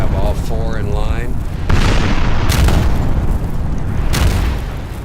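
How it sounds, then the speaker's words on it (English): British 74-gun ships of the line fire chain shot in a Napoleon: Total War naval battle, with heavy cannon booms rolling into one another almost continuously, loud and dense, and sharper blasts standing out midway and near the end. "Now the British 74s are firing chain shot, trying to disable my heavy frigates."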